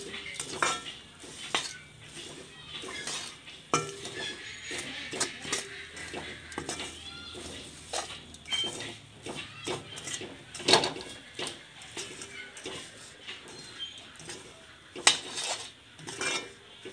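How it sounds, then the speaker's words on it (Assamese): Puffed rice ladu mixture with jaggery stirred in a pan, a spoon scraping and clinking against the metal in an irregular, close rhythm throughout, with faint sizzling underneath. "এয়া মই লৰাই আছোঁ,"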